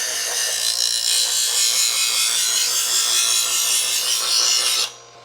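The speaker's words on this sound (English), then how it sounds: "I'm just letting the blade go through the sharpener up to the heel of the blade and going with the guide" A dull kitchen knife is pulled through a guided sharpener from tip to heel, making a continuous close, gritty rasping scrape that stops abruptly near the end.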